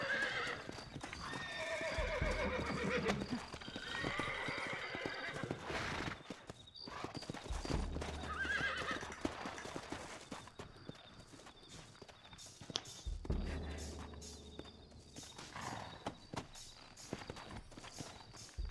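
Hooves clip-clop steadily at a trot with loud horse whinnies and snorts breaking in, the galloping fading in and out over several passes, in the video game Red Dead Redemption.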